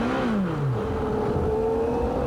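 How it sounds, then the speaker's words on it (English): IndyCar race car at the 1993 Road America event, its engine breaking down under braking downhill into a corner: a loud, steady engine drone with a falling pitch sweep, continuous and close, no talk. "It broke as we were in car with Sullivan, under braking, and finally it coughs enough"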